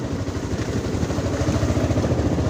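A motorcycle engine on a snowy road in Dhotrey near Darjeeling rumbles in a low, steady, pulsing idle, close and moderately loud throughout the short stretch.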